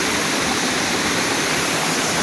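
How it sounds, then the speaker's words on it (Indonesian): Curug Kutu waterfall pouring into the Cikondang river, a loud, steady broadband rush of falling water that fills the whole brief stretch without pause or voices. "Tuh lihat, ini aliran air curugnya ke sungai itu."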